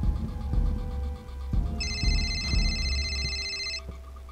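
A telephone in a video game rings with a steady electronic trill for about two seconds, over a rumbling background with regular low thumps and ticks.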